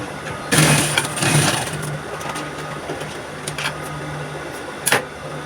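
A sewing machine stitches the neckline of a shoulder princess dart bustier straight gown, giving a close mechanical whir in two short runs, then a softer steady hum with a few clicks.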